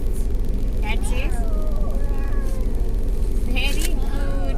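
A toddler imitates a cat's meow, several short rising and falling mewing calls, close and loud over a steady background rumble, with an adult voice nearby.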